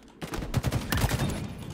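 Bursts of rifle fire in Halo Infinite, a quick string of punchy shots followed by a clustered volley, fairly close and loud with no voices.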